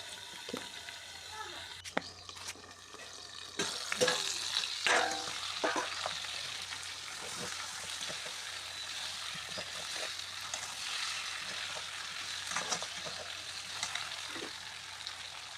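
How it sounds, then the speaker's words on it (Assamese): Duck meat with ash gourd frying in a covered pan over low heat, a steady close sizzle running throughout with occasional sharper crackles and stirring clatter. "মই ঢাকোন মাৰি ভালকৈ অলপ দেৰি ভাজি লওঁ।"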